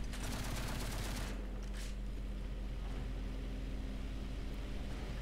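Rapid bursts of anti-aircraft gunfire from an AMX-13 in War Thunder, loud and dense for about a second and a half before giving way to a steady low engine drone with no voices.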